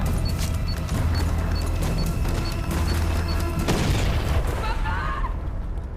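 A loud bomb explosion in Far Cry 6 booms over continuous heavy game noise and background rumble, followed by a brief crackling tail as the blast fades.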